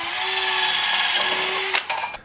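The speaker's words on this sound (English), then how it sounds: "which Ant's now drilling here." A power drill whines steadily through aluminium sheet, then cuts off with a couple of short final bursts as it spins down.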